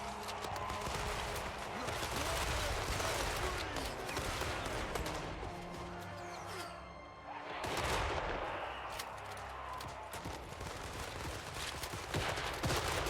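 Repeating arquebus fire in a video game battle: dense, rapid volleys of cracking shots layered over a loud continuous din, briefly dropping off midway before the barrage resumes.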